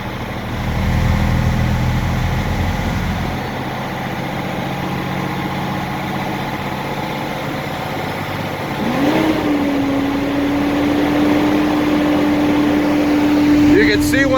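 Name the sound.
Sterling crane truck diesel engine revving up RPMs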